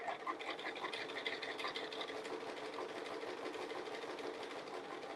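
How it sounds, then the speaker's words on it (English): Sewing machine stitching slowly to anchor a quilted arrow panel, a continuous quiet whirring hum with a fast mechanical rhythm and no speech. "when I start, I'll just start with a little slow stitching right here"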